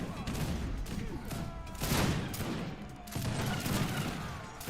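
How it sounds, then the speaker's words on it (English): Cannon fire and massed musket volleys from an Age of Empires 3 Wars of Liberty battle, with repeated booming shots and crackling gunfire forming a dense, continuous roar under faint talk. "That cannon's going to be pelting those Marauders."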